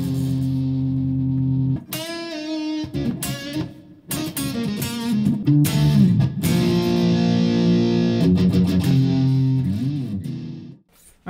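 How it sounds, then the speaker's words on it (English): Electric guitar, a relic-finished Stratocaster copy with stock pickups, played through an ultra metal distortion effect: loud saturated chords and riffs with sustained notes and short pauses, played alone. "We have an ultra metal distortion."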